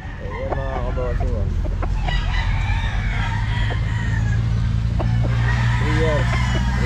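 Chickens at the Grotto pet market cluck and a rooster crows several times over a steady background hum of traffic and crowd noise.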